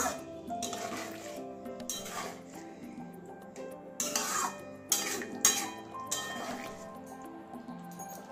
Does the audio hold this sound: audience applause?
no